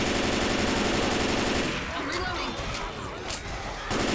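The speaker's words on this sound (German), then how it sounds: "Ich schieße auf die." Rapid automatic gunfire in the Left 4 Dead 2 video game, a loud continuous burst that gives way to scattered shots and clatter.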